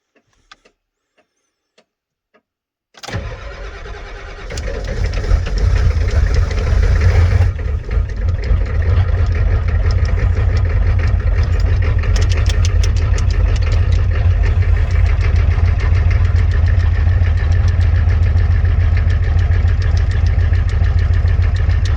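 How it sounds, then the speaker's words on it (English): A 1990 Ford F-250 with a 7.3 IDI diesel cold-starts after a quiet moment, catching abruptly and settling into a loud, steady, rumbling idle that continues without pause. "Good old IDI cold start for you guys."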